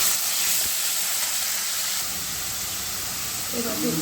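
Cumin, onion, green chilli and ginger paste hit hot oil in a pan for a catfish curry and hiss in a loud, steady, broadband sizzle that continues without a break, with a soft voice briefly underneath near the end.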